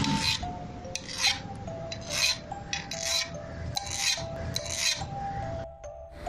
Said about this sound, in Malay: Tiba-tiba aku terdengar bunyi macam kuku mencakar tingkap